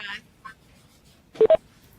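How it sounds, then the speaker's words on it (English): Conference phone call tone as a caller joins: two short, clear electronic beeps in quick succession, following faint speech in a quiet meeting room. "it sounds like we may have had someone that just joined us on the phone"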